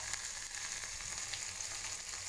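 Tomato sautéing in a hot pan with green chili, a steady soft sizzle, faint and continuous throughout with no voices.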